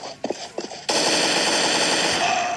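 Rapid automatic gunfire from a video game bursts in and keeps up a dense, loud stream, after a couple of short sharp shots at the start.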